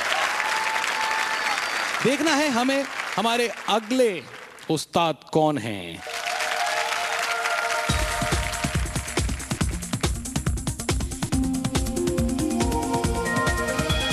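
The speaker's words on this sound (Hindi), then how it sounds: "चलिए आज जोरदार तालियां बजाइए इनके लिए।" Studio audience at a comedy show applauding a comedian; a voice speaks over a brief clap at the start, then music plays and loud, dense applause rises and carries on under it to the end.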